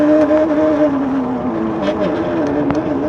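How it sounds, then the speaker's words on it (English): A Wired Freedom electric bike motor whines at full throttle while climbing a hill, a steady tonal drone that dips slightly in pitch under load, close and loud with wind rush and faint road noise throughout. "just crank the throttle and see if it's got the torque to climb it"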